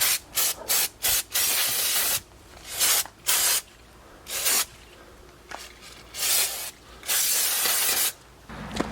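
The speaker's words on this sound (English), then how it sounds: "I'm just going to spray it quick with the brake cleaner" Repeated short and long bursts of brake parts cleaner sprayed from an aerosol can onto Mazda3 brake components, close and loud hissing blasts separated by brief pauses.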